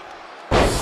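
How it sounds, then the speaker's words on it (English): In the WWE 2K23 video game, a wrestler is slammed to the mat with a single sudden heavy impact and a burst of crowd roar after a quiet lead-in. "Slammed with authority."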